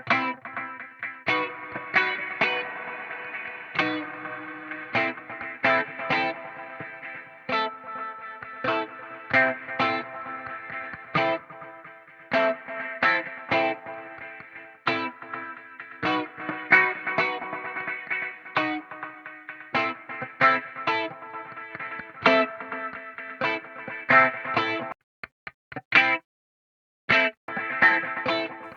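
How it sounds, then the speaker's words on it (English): A plucked, synthetic melody repeats with echoing trails and a washy reverb tail smearing the notes together, cutting out briefly near the end. "Now when we want to smoothen the delay more, add a reverb after and fine-tune the settings."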